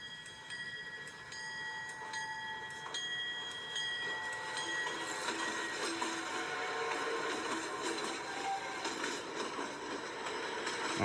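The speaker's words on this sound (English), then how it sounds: "don't you just love the sound of the clickety-clack on the axles on the rail track?" Railroad cars rolling through a train yard, a steady rumbling run of wheels over rail joints with metallic squeals and rattles that grows louder toward the end, no voices present.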